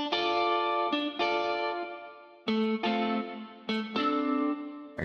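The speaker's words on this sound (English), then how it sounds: "How'd you do that little wow-wow effect on the guitar?" A guitar plays sustained chords through a warbling, sweeping wah-wah effect that makes the tone rise and fall, with several restrikes and no talking.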